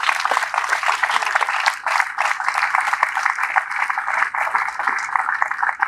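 A crowd at a Congolese public gathering in Grand Kasaï applauds for the President of the Republic. The clapping is steady and rhythmic, with short gaps in the bursts, and keeps going for the whole stretch.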